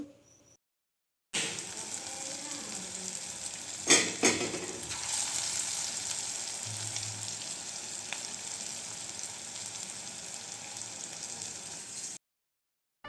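Ankapur corn vadas (makka garelu) frying in oil on low flame: a steady soft sizzle after a brief silence, with a couple of clinks from a utensil early on, then cutting out at the end.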